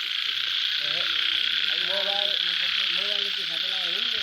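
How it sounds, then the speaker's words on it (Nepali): Night frog chorus in Lamatar, with a loud constant trilling drone and several short croaking calls repeating nearby in irregular bursts, with no talking over them. "लामाटारको भ्यागुताको गीत सुनियो है ल"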